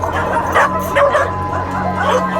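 Dogs rescued from a meat farm bark, yip and whimper together in a noisy, close chorus, with bursts of yelping over a constant din.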